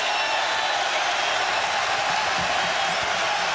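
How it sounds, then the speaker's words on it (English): Basketball arena crowd at a Marquette versus Kansas State game, a dense continuous roar from many spectators, loud and steady across the whole stretch, with a broadcast voice underneath. "Crowd trying to get in the head of Trice"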